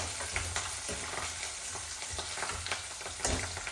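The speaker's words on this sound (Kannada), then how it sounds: "ಹಸಿಮೆಣಸಿನ್ಕಾಯಿ ಹಾಕಿ ಸ್ವಲ್ಪ ಮಿಕ್ಸ್ ಮಾಡ್ತಿದ್ದೀನಿ." Green chillies fry in hot oil in a pan while being stirred for chitranna gojju, giving a steady close sizzle with scraping stirs throughout and no talking.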